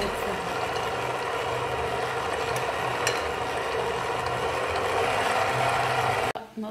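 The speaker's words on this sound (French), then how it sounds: "On mélange bien le tout." Dough ingredients are stirred and mixed in a bowl, a continuous close scraping, churning noise with steady loudness that stops abruptly near the end.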